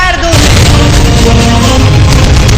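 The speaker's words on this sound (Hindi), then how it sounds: "major Karan Singh, Mathura Prasad ji, cover fire" Cover-fire gunfire effect in a patriotic school play at a primary school, a loud, sustained burst of crackling booms that sounds after a brief pause and runs steadily to the end.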